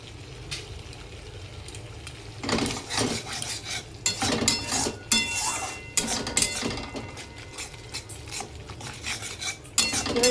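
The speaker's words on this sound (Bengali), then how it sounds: "এবার এটাকে ততক্ষণ কষাবো যতক্ষণ না তেল ছেড়ে দিচ্ছে।" A spatula stirs paneer masala with salt and turmeric in a pan, making irregular metallic scrapes and clinks against the pan in bursts, with a low background hum.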